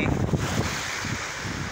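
Strong wind buffets the microphone with a continuous low roar and rumble, loud and close, with no voices.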